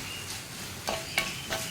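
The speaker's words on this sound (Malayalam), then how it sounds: "ചട്ടി നല്ല ചൂടായതുകൊണ്ട് തന്നെ വേഗം മുളക് പൊടി കുക്കായി തുടങ്ങും" Chilli powder fries in a very hot pan, a soft continuous sizzle broken by a few brief scraping stirs, close and moderately quiet with no talk.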